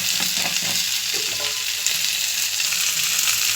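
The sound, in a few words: okra frying in a pan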